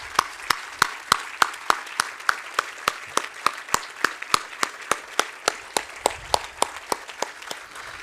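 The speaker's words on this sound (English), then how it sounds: "other research leaders in the audience to be recognized with some applause" Audience applause at a milestone event for a research organization, a crowd clapping in a steady pulse with evenly spaced, distinct claps standing out close by throughout.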